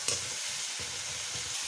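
Sliced onions fry with a tablespoon of salt in a pan for chicken curry, a steady sizzle with a few soft scraping stirs repeating at regular intervals.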